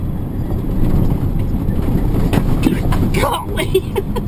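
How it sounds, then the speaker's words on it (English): A vehicle drives along a bumpy bush road with a loud, steady low rumble and wind buffeting. Scattered jolts and knocks come through the rumble, and a person talks over it. "Driving through the bush."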